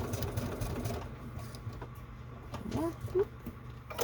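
A sewing machine stitches a Thor-inspired clutch with a soft, steady whirring drone, quiet and close, broken by a few faint squeaks and a brief spoken word.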